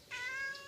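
A cat meows once, a short clear harmonic call near the microphone with nothing else sounding, from a cat that has a small infection on its tail.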